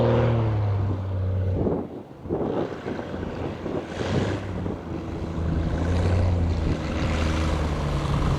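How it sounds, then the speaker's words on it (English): A modified experimental Cessna 170B bush plane comes in to land slowly in the Nevada desert. A steady propeller drone carries through heavy wind rush and shifts in pitch as the aircraft settles. "This is a modified experimental Cessna 170B by Bush Air, flying by CC."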